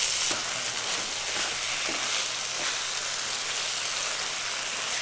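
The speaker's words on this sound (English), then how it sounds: "Now add soya sauce, chili sauce too, and then stir it well." Soy sauce and chili sauce stirred in a hot frying pan for chicken Manchurian, a steady sizzle with soft scraping strokes of the spatula repeating throughout, close and moderately loud.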